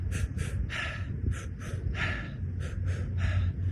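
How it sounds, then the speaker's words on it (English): A runner demonstrates a breathing pattern with repeated sharp, rhythmic breaths, close to the mic. About eight quick huffs come in steady pairs and groups, over low background rumble, with no words. "when I'm not sprinting and I'm running, I find a breathing pattern"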